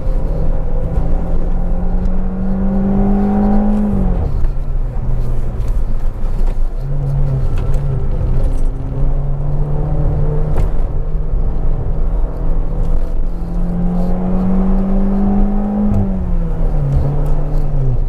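A 2010 Peugeot RCZ automatic climbs a misty, wet hillclimb at Genting, its engine droning steadily up close, with rising and falling pitch as it eases through corners and picks up speed again.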